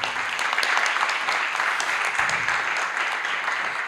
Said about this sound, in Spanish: Un aplauso para Federico León.